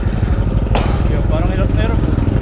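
A 400cc scooter engine drones steadily and loudly at close range throughout, a continuous low rumble with a brief sharp click near the start.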